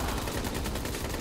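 Rapid automatic gunfire from a weapon in Call of Duty: Black Ops 3 Zombies, a dense, continuous burst of shots with no pauses, loud and close.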